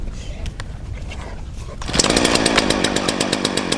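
A chainsaw cold-starts from a pull on the ground: quiet rustling for under two seconds, then the engine catches and runs loud and steady, a near rough buzzing drone holding to the end.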